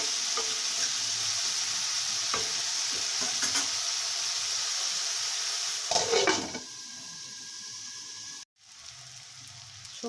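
Vegetables fry in a pan for chirar polao, with a steady close sizzle and repeated scraping stir strokes; a brief pause near the end, then the sizzling resumes.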